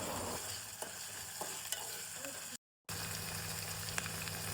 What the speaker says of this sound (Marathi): आलं लसणाची पेस्ट आपण चांगलं तेलात परतून घेऊया।